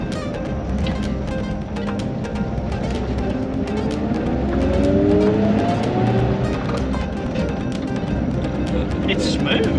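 An old Pontiac straight-eight engine hums steadily and smoothly at close range while driving, with a low, even drone that rises slightly in pitch partway through.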